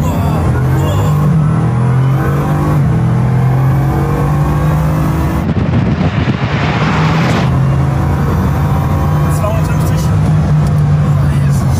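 A Bugatti Chiron hypercar pulls away from a standstill after a speed bump, its engine a steady, loud droning hum heard from inside the cabin, with people talking over it throughout.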